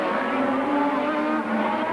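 1983 Formula 1 race cars howl around the Dijon circuit at the French Grand Prix, a loud sustained engine wail from a pack of cars running close together.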